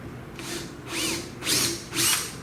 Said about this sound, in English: Let me do just a little pilot hole. I got the dang drill sitting right here.